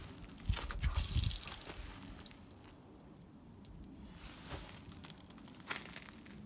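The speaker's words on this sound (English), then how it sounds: "open up the low point drains one at a time and get the antifreeze out of those until they run clear" Antifreeze draining out of the low point drains on a 2020 Thor Tellaro 20AT RV during de-winterization, a close splashing gush and trickle with drips and spatters that swell and fade.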